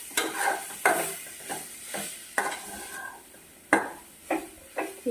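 Cheera thoran, a spinach stir-fry, cooking in a pan, with repeated scraping stirs and soft sizzling at an uneven rhythm, close and fairly quiet.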